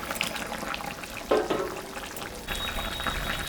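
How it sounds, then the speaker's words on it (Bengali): Curry broth for a raikhor fish, potato and eggplant dish bubbles steadily in a pot. Fish goes in partway through, adding a brief burst of splashing and sizzling over the close boiling. "ঝোলটা ফুটে গেছে, মাছটা এখন আমি দিয়ে দেব।"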